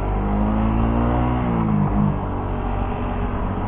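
A car goes by close to a parked motorcycle engine being examined, a steady engine drone rising slightly in pitch and then fading a little as it passes, with no talk.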